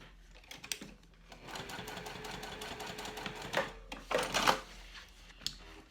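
A sewing machine stitches a zipper onto a crossbody bag in quick, close bursts of rapid mechanical clatter, pausing briefly between runs, with no voices over it.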